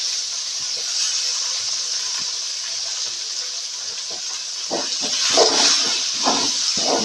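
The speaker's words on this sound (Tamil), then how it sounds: "தக்காளி போடுறேன்." Tomatoes hit a hot pan in a home kitchen, raising a loud, steady frying sizzle that swells with sharper crackles and spits toward the end, with no voices.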